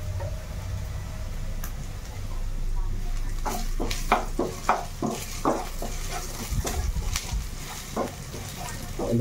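Onions sizzle steadily in a pan while a utensil scrapes and taps against the metal in an irregular rhythm of stirring strokes. A low background hum runs underneath.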